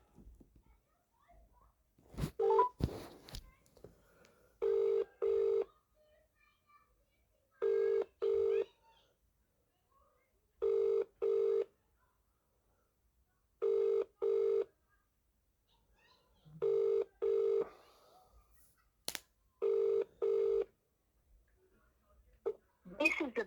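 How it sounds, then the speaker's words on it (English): An outgoing mobile call rings on a Vodafone line, repeating a quiet double-burst ringback tone at even intervals with brief faint background sounds between rings. "Ring you, Christopher Browell."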